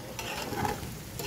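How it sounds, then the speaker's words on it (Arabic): Onions with salt and chicken stock cubes stirred in a pan for a bulgur dish, with continuous close scraping and a low sizzle and no voices. "ونضيف ملعقة ملح وثلاث مكعبات مرق الدجاج، وأبدأ أحركهم لين يذبلون عندي."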